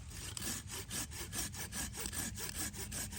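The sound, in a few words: Silky Pocketboy handsaw cutting a branch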